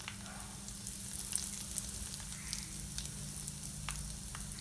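Dried red chillies, turmeric and asafoetida fry in oil with a steady, close, soft sizzle and faint scattered pops, plus a low steady hum underneath and no talking.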